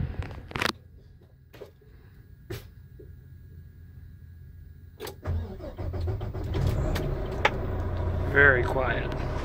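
A 2019 Volvo VNL 860 truck engine cranks with a sharp burst partway through and catches, settling into a low, quiet idle rumble, with a few clicks and someone talking nearby.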